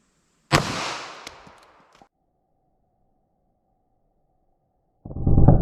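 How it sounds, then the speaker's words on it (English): A 9mm Hornady Critical Defense Lite round fired from a full-size pistol into a medium-density fiberboard ballistic test setup gives one sharp, loud blast with a decaying tail. A faint steady tone follows, then a loud rumbling burst near the end. "first up we have our 9mm through our full-size pistol"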